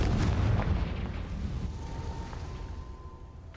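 The Confringo fire spell from Hogwarts Legacy erupts in a deep explosive boom near an Acromantula cave, a loud blast that rumbles and fades over a few seconds.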